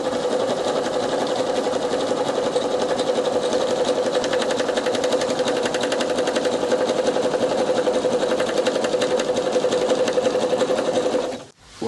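Sewing machine running a zigzag stitch to overlock the fabric ends of a Barbie dress, a loud close steady whirring hum that holds for about eleven seconds and then stops abruptly.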